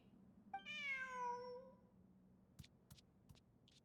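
A cat in the video game Genshin Impact gives one clear, drawn-out meow, followed by a few short clicks and soft game sounds.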